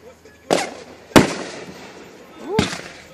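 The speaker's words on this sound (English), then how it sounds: "fireworks." Fireworks at a Fourth of July show burst in three sharp, loud booms spaced over a few seconds, each trailing off into crackle, with people talking faintly between them.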